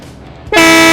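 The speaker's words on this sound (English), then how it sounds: "Train horn, look out." A car fitted with an aftermarket train horn sounds one sudden, very loud sustained blast of layered, chord-like tones, starting abruptly halfway through after a quieter stretch of background noise.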